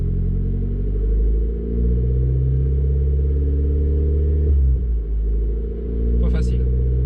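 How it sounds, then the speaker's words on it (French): Renault Clio 4 RS engine held steady around 2000 rpm, a continuous low, droning rumble with layered harmonics, close and loud, wavering slightly in pitch, with a brief higher clatter near the end. "Je vais monter, admettons, 2000 tours minute"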